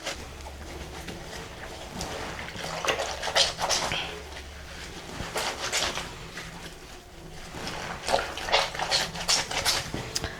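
White clothes are hand-washed in water, with repeated sloshing, splashing and wet rubbing bursts that come and go in an uneven rhythm, close and moderately loud.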